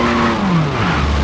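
A car engine in BeamNG.drive revving hard with a falling pitch, loud and close, as tires squeal in a brief burst lasting about a second.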